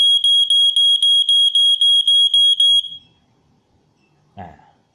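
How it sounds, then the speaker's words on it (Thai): A smoke detector for an IP alarm panel beeps during an installation test: a loud, close, rapid train of piercing electronic chirps that stops abruptly, followed by quiet handling noise and a brief voice. "จะได้ยินเสียงติ๊ดติ๊ดเนี่ยนะครับ"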